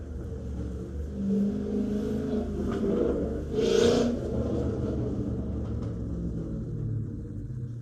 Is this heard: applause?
no